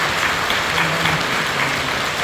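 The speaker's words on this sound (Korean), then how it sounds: "여러분들 뜨겁게 박수로 환영해 주시기 바랍니다" At Incheon Full Gospel Church, a congregation gives warm, loud applause to welcome first-time visitors, an unbroken wash of clapping at steady volume from start to finish.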